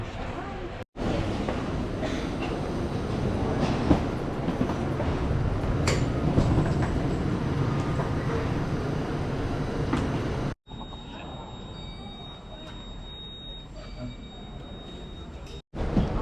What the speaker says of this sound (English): About to get on the tram